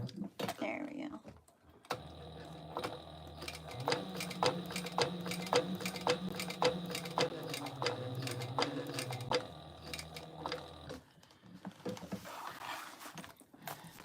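A home sewing machine stitches steadily for about nine seconds, its rapid needle ticking and motor hum close and clear, then stops; a voice talks briefly before and after, while sewing a Mila Monster stuffed toy with an adjustable strap.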